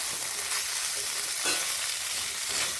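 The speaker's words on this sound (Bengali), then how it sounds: "এবার আমি ভেজে রাখা সবজিগুলোকে এখানে দিয়ে নিচ্ছি মশলার সঙ্গে এগুলোকেও একটু কষিয়ে নেব" Pre-fried beans and potatoes tossed with spices in a pan, giving a continuous dense sizzle with a brief stir midway, close up and without speech.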